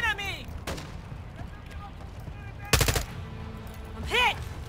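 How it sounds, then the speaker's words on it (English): Bursts of gunfire in Call of Duty Warzone 2.0, including a loud, sharp volley near the middle, with speech across the rest of the clip. "You're shooting at me!"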